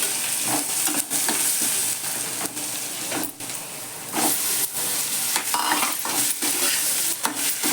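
Garlic-chili paste and turmeric sizzle in hot oil for vada pav filling, a loud continuous frying hiss cut by repeated sharp scrapes of a spoon stirring in the pan, close-up and without talk.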